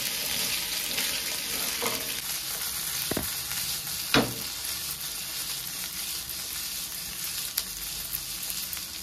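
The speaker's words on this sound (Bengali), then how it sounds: "কুচনো রসুন, কুচনো পেঁয়াজ, কাঁচা লঙ্কা। এগুলোকেও হালকা সটে করে নেব চিকেনের সাথে।" Chopped garlic, onion, ginger and green chili sauté with chicken for kung pao, giving a steady close sizzle broken by a few sharp stirring clicks and scrapes.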